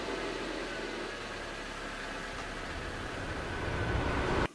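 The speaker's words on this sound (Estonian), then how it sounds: "punane auto hakkaski sõitma" A red cartoon car pulls away and drives through the city, its steady mid-range engine drone holding loud and even before cutting off abruptly at the end.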